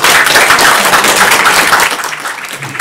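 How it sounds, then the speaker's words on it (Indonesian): Audience at a media independence debate breaks into steady, dense applause that fills the room, loud at first and thinning slightly toward the end. "Kita beri semangat, tepuk tangan."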